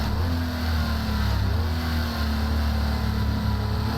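A Porsche 936 racing car in the GP Legends racing game, its engine droning steadily at high revs with a buzzy, constant tone throughout, no talk over it.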